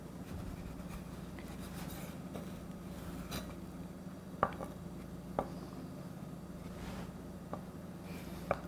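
A knife slices floured dough into strips on a board, several sharp, light taps spaced irregularly over a soft, quiet background hum.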